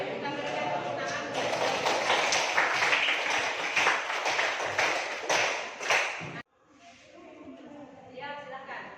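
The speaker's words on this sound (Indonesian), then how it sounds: "Kita berikan tepuk tangan." Applause from a group after a classroom presentation, a burst of mixed clapping and taps that cuts off abruptly, followed by quieter voices talking in the room.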